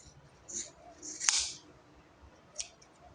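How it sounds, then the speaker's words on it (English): Scissors snipping through fabric while cutting out a Christmas Santa hat, a few short crisp cuts at close range, the loudest one in the middle, with quiet pauses between. "just use your scissors to cut it out"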